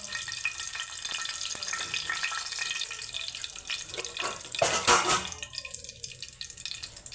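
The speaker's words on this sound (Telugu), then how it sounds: "ఇప్పుడు పోపు వేసుకోవడానికి ఒక ఎండుమిరపకాయ," Dried red chilli and mustard seeds tempering in hot oil for a raw mango and coconut chutney, giving a steady crackling sizzle with a louder burst of spattering near the end, no voices.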